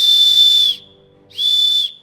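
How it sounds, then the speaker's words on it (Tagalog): An emergency rescue whistle gives two loud, shrill blasts at close range, the first longer than the second, separated by a short silence. "So ito yung pito"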